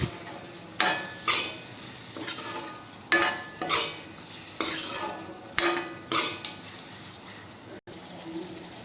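Spoon stirring through eel curry in a pan, a series of scraping, clattering strokes against the metal at an uneven rhythm, close and fairly loud with no talking.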